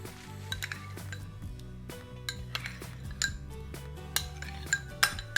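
Salad being stirred with mayonnaise in a bowl, close-up spoon scrapes and light clinks against the dish in an irregular rhythm, with a couple of sharper knocks near the end.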